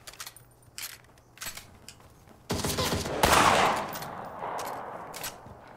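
Shotgun blasts and other gunfire in the zombie battle royale game Cuisine Royale: a few sharp shots early on, then a dense, loud burst of firing in the middle that fades into a rumbling tail.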